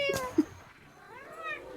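A person imitates a cat's meow, two short quiet mewing calls followed by a longer rising and falling meow, close and soft, with no other talk.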